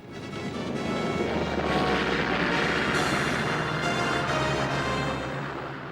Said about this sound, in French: Les avions torpilleurs s'attaquent aux navires de guerre, à l'ancre, en rang serré